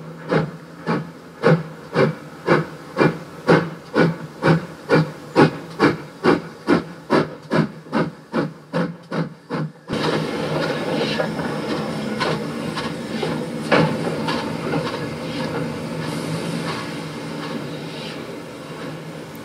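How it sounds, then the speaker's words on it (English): A steam locomotive chuffs in rapid, regular bursts for about ten seconds as it runs to the engine shed to take water, then gives way to a steady hiss of escaping steam nearby. "the engine runs across to the engine shed to take water."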